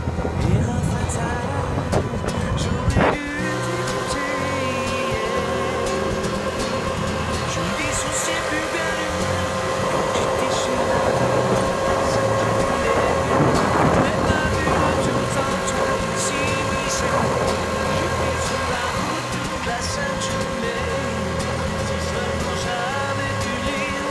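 A moped engine runs continuously at a steady drone with small shifts in pitch, up close and fairly loud, with a sharp knock near the start.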